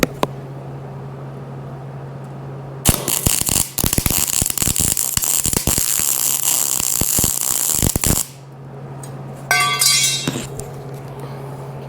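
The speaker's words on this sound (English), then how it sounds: "and then we're going to weld it." A wire welder runs on aluminum to bridge a large gap, giving a loud, dense crackling buzz for about five seconds with stuttering breaks, then stopping, followed by a brief faint clatter.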